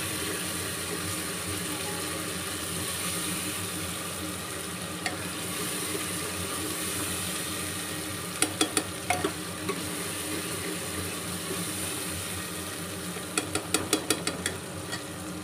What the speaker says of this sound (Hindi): इसको हम 5 मिनट तक गलने देंगे प्याज और टमाटर को